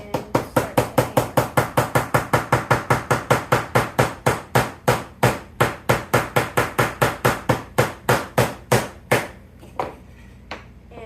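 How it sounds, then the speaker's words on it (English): A hammer strikes pieces of a wooden jewelry shelf in a steady, evenly spaced series of about thirty sharp, close knocks, ending with a short stretch of quiet handling noise. "and then start to hammer."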